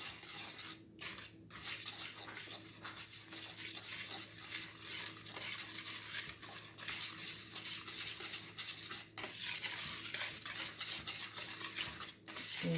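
Stirring dry mix into vegan biscuit batter in a bowl, a steady scraping and swishing that carries on continuously at close range, with a faint background hum and no talk.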